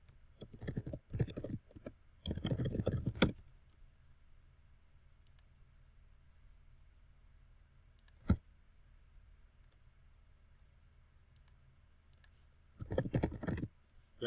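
Bursts of quick computer keyboard typing as a place name is entered, a short cluster at the start, a single click midway, and another brief flurry near the end, with quiet room hiss between.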